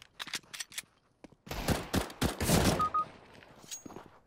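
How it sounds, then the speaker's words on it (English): Gunfire in CS:GO during a bomb-planted round: a few sharp shots at first, then a dense burst of rapid loud reports with clattering impacts, closing on a headshot. "And sudden headshot."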